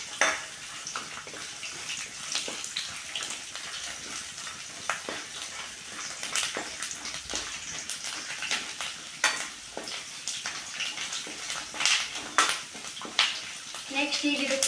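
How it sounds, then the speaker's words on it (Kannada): Crushed garlic fries in a pan for a beaten-rice snack, crackling and sizzling steadily up close with frequent sharp spatters and stirring scrapes throughout. "ಬೆಳ್ಳುಳ್ಳಿನ ಜಜ್ಜಿಟ್ಕೊಂಡಿದ್ವಲ್ಲ ಅದನ್ನ ಹಾಕಿ ಫ್ರೈ ಮಾಡಿ."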